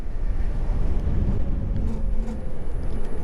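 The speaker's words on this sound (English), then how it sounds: "I think that big ass truck is behind me" A large truck rumbles steadily on the road close behind a rider on a 3000W electric bike, a continuous low engine and tire drone throughout.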